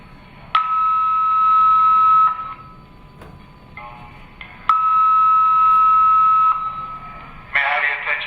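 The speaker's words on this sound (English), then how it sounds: "This concludes all tests on the fire command system." A fire command system test gives two long, steady, loud electronic alarm tones, each lasting a couple of seconds with a pause between. A brief burst of other sound follows.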